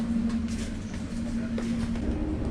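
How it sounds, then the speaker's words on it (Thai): Steady rumble of a Warsaw tram in motion, heard from inside, with a constant low hum and faint rattles and squeaks, voices murmuring in the background. "โอ้นี่คือการขึ้นรถรางครั้งแรกของเรา"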